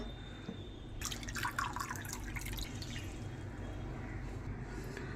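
Water for sugar syrup is poured into a pan as a close, steady splashing stream that starts abruptly and continues to the end, moderately loud over a low background hum.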